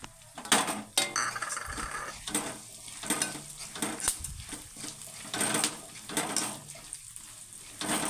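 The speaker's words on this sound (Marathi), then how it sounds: "भोपळ्याच्या बिया भाजायला घातल्यात फुलाच्या बिया कलिंगडच्या बिया ह्या तिन्ही एकत्र भाजल्या तरी चालतील" Pumpkin, sunflower and watermelon seeds dry-roasting together in a pan, with scraping stirs and light rattling clinks of seeds against metal in irregular bursts, close and fairly quiet.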